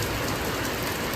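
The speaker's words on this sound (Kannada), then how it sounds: "ಇಲ್ಲಿ ನೋಡಿ ಮಳೆ ಹೆಂಗೆ ಬರ್ತಾ ಇದೆ." Heavy rain pouring down in a village during a power cut, a dense, steady hiss of drops hitting surfaces, loud and unbroken with no voices.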